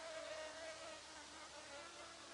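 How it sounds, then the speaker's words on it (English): A steady, faint insect buzz hums continuously, a thin droning tone wavering slightly in pitch against quiet outdoor background. "Oh, the bees are out."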